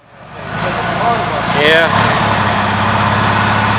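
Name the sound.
Gravely tractor engine running, blowing exhaust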